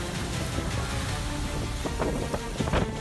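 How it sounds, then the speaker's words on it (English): Heavy rain pours steadily with gusting high winds lashing a neighborhood, trees bent over, a dense constant roar of a storm with occasional sharper splashes. "High winds and heavy rain lash a neighborhood."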